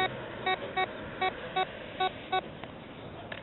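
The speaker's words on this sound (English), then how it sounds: "Got a another good beep on the compadre." A Compadre metal detector sweeping outdoors sounds six evenly spaced, clear electronic beeps over a low, steady background hiss, then falls quiet.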